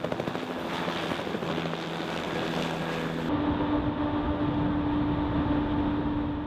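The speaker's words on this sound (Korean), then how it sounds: "헬기가 이륙을 시도합니다." A helicopter lifts off in the Arctic sea fog, its engine and rotors making a steady, close roar mixed with wind noise. A low drone holds throughout, with no voices.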